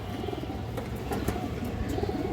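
Old-line neck pigeons in a loft keep up a steady, moderately loud cooing murmur, several birds overlapping with faint rustling and no speech.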